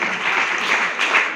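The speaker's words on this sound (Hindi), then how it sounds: "एक बार ताली हो जाए" A seated audience at a farmers' meeting gives a short, lively round of applause, many hands clapping in a dense, even crackle for just over a second.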